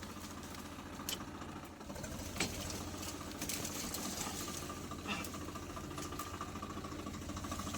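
A tractor engine chugs steadily while driving through an orchard, a continuous low rumble with a few brief knocks and rattles over the top, moderately close and with no talking.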